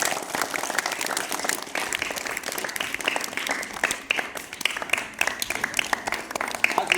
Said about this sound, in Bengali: আর সবাই জোরে হাততালি দাও।